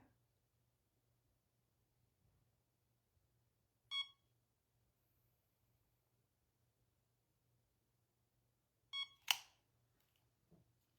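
Quiet room with a faint low hum, then a short electronic beep from a heated lash curler, followed later by another beep and a brief clatter.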